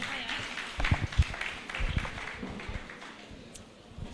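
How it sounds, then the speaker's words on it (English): Audience at a PSN-YPG Lagos youth event claps and cheers after the host calls for applause, a scattered, uneven burst of clapping that swells in the middle and fades out, with voices mixed in. "Please a round of applause for her again."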